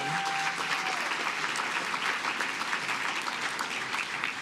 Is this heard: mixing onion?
no